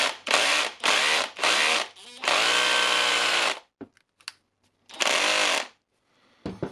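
A Makita DHR202 18V cordless SDS-plus hammer drill with a faulty gear whirs in several short bursts, then a longer run, with a rough, grinding mechanical rattle; brief clicks and handling noises in the pauses.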